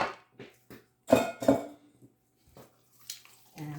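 Eggs and broth being mixed into Southern cornbread dressing in a bowl: a few sharp spoon clinks and knocks against the dish, scattered and close, with quiet gaps between.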